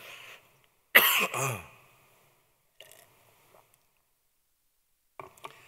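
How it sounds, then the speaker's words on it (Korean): A single harsh cough bursts out close by during a church dawn-service sermon, followed by a few faint throat sounds amid near silence. "오늘 아침에 자 기침이 나."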